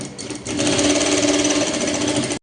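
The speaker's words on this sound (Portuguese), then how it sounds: "Vamos passar essa costura aqui, nessa volta toda aqui." A sewing machine stitches along a fabric apron strap, starting with a short burst and then running in a loud, steady, close whir before stopping abruptly.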